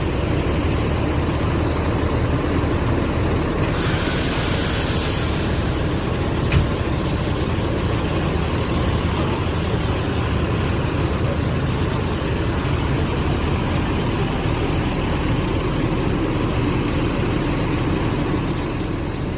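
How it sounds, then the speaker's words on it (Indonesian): Haryanto bus idling at Jati Kudus terminal, a steady low diesel rumble held at an even level throughout with a broadband hiss swelling briefly near the start and no talk. "Ini bus putar balik dari Jakarta."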